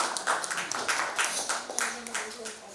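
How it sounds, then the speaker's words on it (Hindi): Audience clapping after a stage play, the comedy Meri Biwi Ki Shaadi, with scattered irregular claps building and mixing with voices talking over them. "चाहूंगा एक बार जोरदार ताली से"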